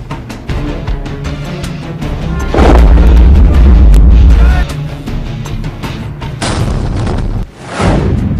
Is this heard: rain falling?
no